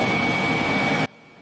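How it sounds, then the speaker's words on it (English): A Ridgid wet vac vacuum running loud and steady with a whining motor tone, then cutting off abruptly near the end. "we came in with our wet vac and just put the holes in there and then drained the remaining of the water out"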